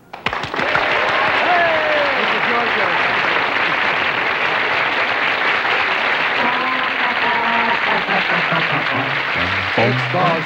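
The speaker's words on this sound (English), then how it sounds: "Okay, cue the clap now." Sustained applause from the studio audience of a 1968 television comedy hour, a dense, loud wash of clapping throughout, with voices and some music rising beneath it toward the end.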